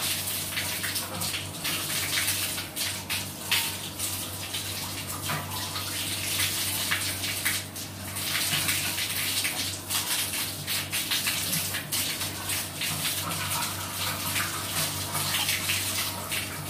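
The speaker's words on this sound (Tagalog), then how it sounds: "Hugasan mo lang siya ng tubig." Tap water pours steadily as electric fan parts are rinsed, a constant rushing splatter lasting throughout with small irregular splashes and no voices.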